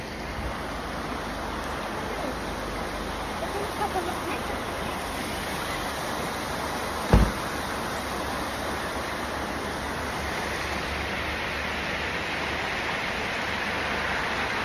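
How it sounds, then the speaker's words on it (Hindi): A waterfall and flowing water in rainy mountains in Scotland, a steady, dense rushing roar throughout with one brief sharp knock midway. "This is water flow, waterfall."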